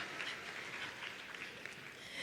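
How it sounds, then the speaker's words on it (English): An audience at a scholarship symposium applauds in a steady, dense patter of clapping that runs the whole stretch at moderate, somewhat distant volume, with no speech over it. "a round of applause for that"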